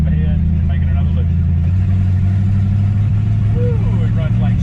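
A 1955 Chevy, running again after 16 years and running rough and lumpy, drives along a private road with a loud, steady low engine drone and uneven throb, while people talk over it.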